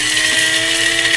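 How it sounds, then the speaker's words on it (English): A coffee grinder whirs steadily as it grinds whole spices, including cardamom, giving a loud, close, continuous high-pitched buzz with no voices. "My spices are in my coffee grinder."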